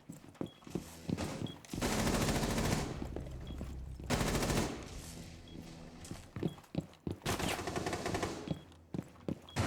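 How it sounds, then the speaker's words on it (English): Gunfire in an online shooter game: loud, rapid automatic bursts crackle close up, broken by brief pauses and quicker single shots. "He's shooting sideways."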